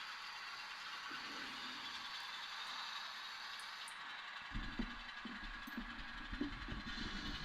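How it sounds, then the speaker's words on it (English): Low rumble and rattling clanks of a train, faint at first then heavier mechanical knocking and grinding in the second half, with no talking. "Train noises are louder than I am"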